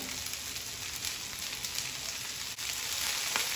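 Okra sautéing with salt in a pan over a full flame produces a dense, even hiss of frying, steady and close, with a few faint stirring touches.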